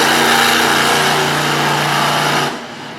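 The Bigfoot monster truck from Pacific, Missouri, runs at the track, its engine whining loud and high for a couple of seconds before cutting off abruptly.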